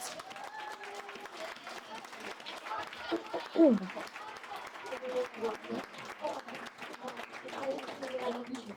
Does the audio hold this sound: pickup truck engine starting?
no